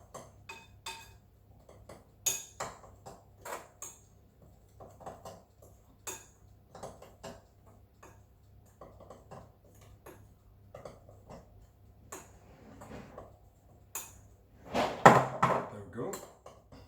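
Cookie dough ingredients with baking soda for Danish Christmas peppernuts are mixed in a bowl, giving scattered clinks and scrapes of utensil on bowl with a louder burst near the end, amid intermittent talk.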